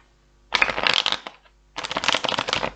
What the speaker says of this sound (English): I'm just going to turn these about one more time, give them another shuffle